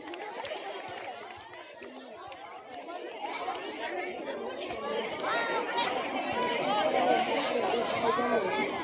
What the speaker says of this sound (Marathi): तुम्ही बडबड बंद करतायत का?